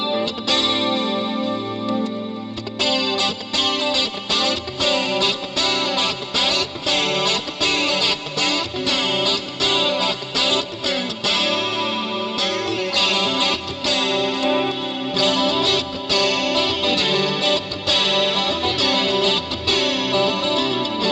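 Electric guitar played through a clean chorus effects unit, shimmering strummed chords with steady rhythmic attacks, loud and close with no talking.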